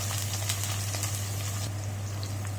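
Chopped onion and green chillies sizzle steadily in hot oil, a close, even frying hiss with a low steady hum beneath and no talking.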